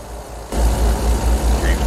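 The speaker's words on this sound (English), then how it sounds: "sounds like more of a truck than anything else" A truck engine rumbles as heard from inside the cab, kicking in abruptly after a quiet half second and then chugging with a low, pulsing idle rhythm close by.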